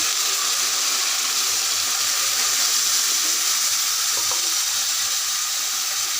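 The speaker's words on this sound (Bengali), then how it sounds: "সামান্য পানি দিয়ে দিচ্ছি" Water poured into a pan of frying onions, part of a Bengali beef bhuna, gives a steady hissing, bubbling sizzle that stays loud and even throughout, with no talking.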